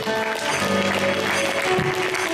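Church congregation clapping steadily and loudly together, a dense continuous wash of applause with tonal musical hum beneath.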